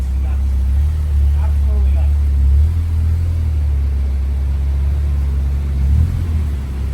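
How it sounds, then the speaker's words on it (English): A car being driven with gentle braking on the clutch gives a low, steady engine rumble that swells slightly a few times, heard up close inside the vehicle, with no clear voices. "while Christian drives his car, he's going to do a quick preliminary braking on the clutch"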